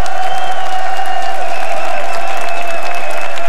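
A large arena crowd in Paris roars with continuous cheering and clapping before a League of Legends World Championship match, loud and dense, with a sustained tone running underneath.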